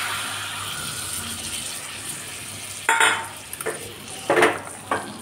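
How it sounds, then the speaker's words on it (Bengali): Bowl-rinsing water splashes and pours into a cooking pot of Kashmiri aloo dum, in several short bright bursts over a steady low kitchen hiss, close and moderately loud. "এবার এই বাটি ধোয়া জলটা আমি এর মধ্যে দিয়ে দেব।"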